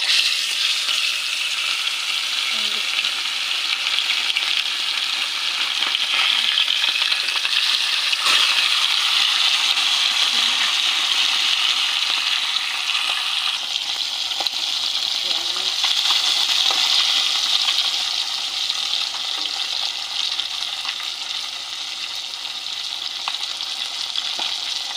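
Fish sizzling and frying in hot oil in a pan for a fish curry with spinach, tomato and spring onion, giving a steady, dense crackling hiss that lasts throughout, close and fairly loud, with occasional faint pops.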